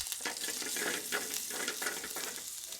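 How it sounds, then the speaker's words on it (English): Whole dried red chilli, cumin seeds and chopped ginger sizzle and crackle in hot oil as they are stirred, a dense close frying hiss with soft rhythmic scraping pulses throughout. "Add 1 whole dried red chilli and 1 pinch of cumin seeds to the oil."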